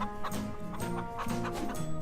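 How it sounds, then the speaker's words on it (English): Hens cluck in quick, close bursts on a farm in the video game Farm Together, with a soft musical background beneath. "Feed the hens."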